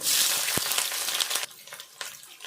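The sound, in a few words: onions frying in oil with dried chillies and garlic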